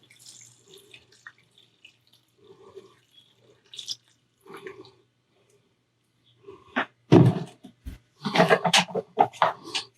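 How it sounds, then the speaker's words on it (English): Vinegar pours into a simmering pot of peppers, with soft scattered clinks and bubbling giving way to a short, louder splashing pour, then further bursts of liquid sound, close and fairly quiet. "we're going to add the 2 cups of vinegar to this."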